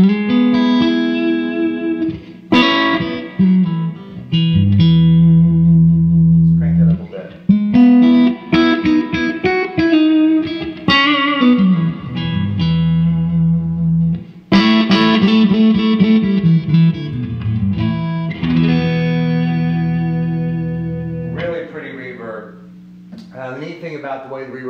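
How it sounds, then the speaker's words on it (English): Electric guitar chords ring out through a Tone King Metropolitan amplifier with lush reverb, notes decaying into a long washy tail between strums. "Let me show you how beautiful this reverb is."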